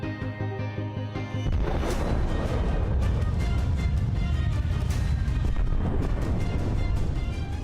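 A huge blast from the first nuclear bomb test in the American desert in 1945 comes in as a sudden deep roar after a quieter opening, then holds as a dense, loud, rumbling wall of sound with no voices.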